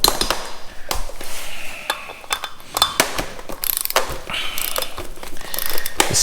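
A torque wrench tightens the rear wheel bolts on a 2006 Harley-Davidson Road King, with loud ratcheting clicks in bursts amid metallic clanks and shuffling tool noises up close.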